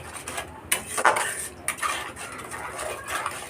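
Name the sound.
mixing spices in a pan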